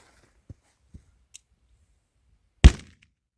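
A Pyro-CQB pyrotechnic airsoft grenade detonates with one sharp, loud blast and a short ringing tail, after a few faint knocks beforehand, outdoors on a foggy day.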